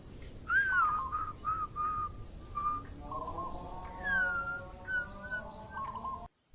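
A person whistles in short, warbling coos, mimicking a zebra dove's call in a repeated, rhythmic pattern against a quiet background.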